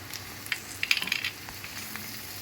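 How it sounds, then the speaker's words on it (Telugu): Salted onions fry in a pan for chicken pulao, soft close sizzling with a brief flurry of stirring scrapes in the middle, then a quieter steady fry. "ఉప్పు వేస్తే తొందరగా బాగా వేగుతాయి అన్నమాట"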